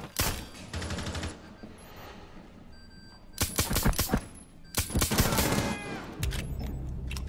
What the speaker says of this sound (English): I'm shooting a fucking shotgun